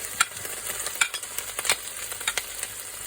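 Carrot, leek and peppers stir-fry in a pan, giving a steady sizzle broken by sharp crackles and scraping stirs, close and fairly loud with no voices.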